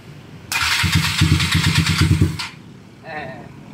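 A Yamaha Mio Sporty scooter with a 261cc engine starts with a rapid, loud chuffing burst that settles into a brief rumble over about two seconds and then cuts off. A faint voice follows.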